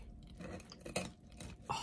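Crunchy breakfast food being chewed up close, several crisp bite-and-chew bursts in quick succession.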